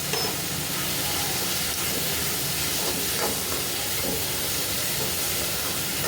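Ginger garlic paste sautés in a pan for chicken gravy, giving a loud, continuous steamy hiss and sizzle that stays even throughout, with occasional faint stirring scrapes and no voices.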